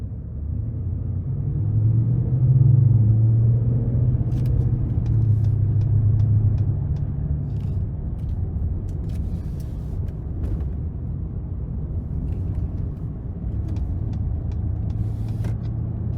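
A 2015 Ford F-150 Lariat with a naturally aspirated 5.0 V8, lifted six inches, drives with a steady low engine rumble. The drone swells slightly early on, then holds even, with light road noise and no talk.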